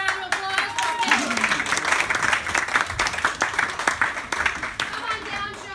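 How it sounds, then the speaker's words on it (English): A live show audience applauds arriving guests with sustained, fairly loud clapping and a few sharper claps, while a voice and some crowd noise sound over it. "Round of applause for our guests."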